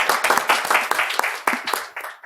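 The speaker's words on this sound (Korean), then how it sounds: "큰 박수로 모시겠습니다." An audience at an indoor climate-education forum claps warmly to welcome a speaker, a dense burst of applause that fades toward the end, no talking over it.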